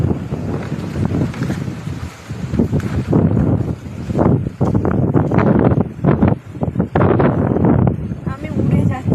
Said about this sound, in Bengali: এত জোরে হাওয়া দিচ্ছে, মনে হচ্ছে উড়ে যাচ্ছি।